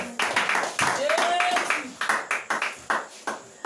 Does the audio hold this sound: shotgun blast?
no